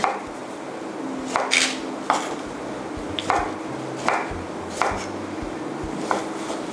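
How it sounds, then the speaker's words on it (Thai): A knife cuts steadily through tomatoes into wedges on a board, roughly one crisp chop every second, each ending in a light knock on the wood. "หั่นเป็นเสี้ยวแบบนี้นะคะ"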